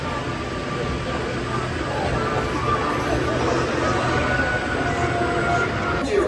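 A loud, continuous roar of a roller coaster train rattling along its track, heard from the front row of the Icebreaker coaster at SeaWorld Orlando, with rushing wind noise throughout.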